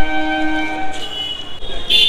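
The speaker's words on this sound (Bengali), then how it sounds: "হ্যাঁ ট্রেনটা এখনই আসার ছিল।" A train passes close by, its horn blaring in long sustained tones over the rumble of the cars, with a brief louder horn burst at the end.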